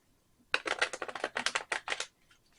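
A deck of skinny, shiny, flimsy tarot cards is shuffled in a quick burst of crisp riffling clicks lasting about a second and a half. Close and fairly quiet, with no talking.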